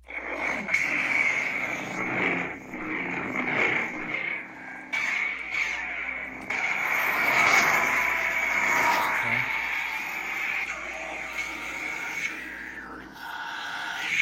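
A lightsaber sound font plays through a large Huntsman hilt from Ignition Saber Company, a continuous humming buzz with swelling swings and crackling clashes over about fourteen seconds, close and moderately loud.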